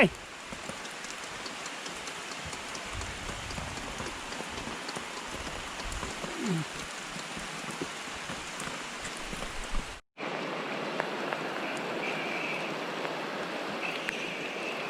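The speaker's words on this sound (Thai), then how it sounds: "ฝนตกหนักเลยครับ" Heavy rain pours down during a fishing trip in wind and storm, a dense steady hiss of drops on surfaces that runs throughout, briefly cutting out for a moment before resuming just as strongly.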